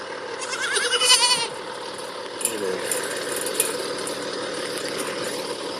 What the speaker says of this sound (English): The baby goats